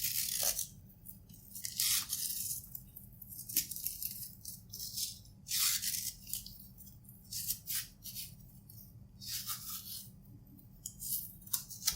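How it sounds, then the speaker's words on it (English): Paper tag pulled to open the product box of Nothing Ear (2) earbuds, heard as close, repeated crisp tearing and rustling bursts in an irregular rhythm over about twelve seconds, with no talking. "We just have to pull this paper tag"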